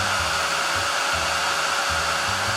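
A heat dryer blowing for heat embossing powder in a craft session, a loud steady whirring hiss with a faint low motor hum that pulses slightly, running continuously up close.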